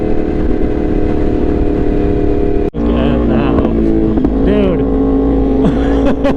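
Ducati Superleggera sport motorcycle passing at speed, a loud, high-revving engine note that shifts abruptly partway through and then rises and falls, with voices mixed in.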